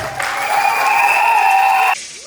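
Short burst of applause from guests at a customary wedding ceremony, steady and fairly loud for about two seconds with a faint whistle or cheer over it, then cutting off abruptly.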